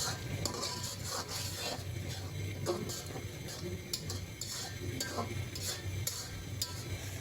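Garlic frying in a pan, a low steady sizzle with scattered ticks and light scraping, faint and continuous throughout.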